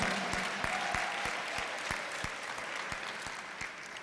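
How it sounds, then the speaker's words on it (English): Applause from an audience at a public event honoring Congressman Jesse Jackson Jr., a steady wash of many hands clapping with scattered sharper claps, fairly distant and sustained throughout without speech. "a great round of applause."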